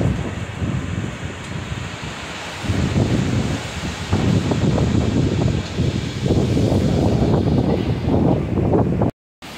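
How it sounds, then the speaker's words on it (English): Gusty Hurricane Beryl wind buffets the microphone in loud, rushing bursts that swell and fade, growing stronger after a brief calmer moment. "Pretty good wind gusts every now and then"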